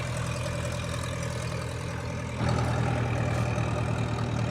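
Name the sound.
crane engine idling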